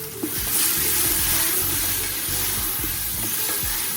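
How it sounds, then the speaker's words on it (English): Fire roasted peppers tipped into a hot pan for chili give a loud, continuous sizzling hiss with steam, steady and close throughout, while faint low tones run underneath. "Then we'll add in our fire roasted peppers."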